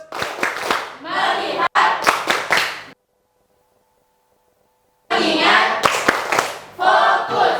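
Children in a classroom perform a clap routine, loud close bursts of rhythmic hand clapping mixed with voices chanting along, broken by a silent pause of about two seconds before the clapping and chanting resume.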